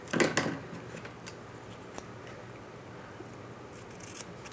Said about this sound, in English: and trim my paper to length.